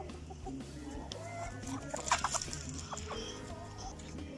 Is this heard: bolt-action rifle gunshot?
no